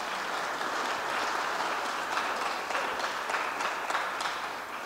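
Soft, continuous applause from a church congregation at a Christmas Eve Lutheran service, a distant, even patter of many hands filling the room.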